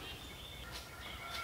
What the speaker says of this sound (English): Here comes the geese.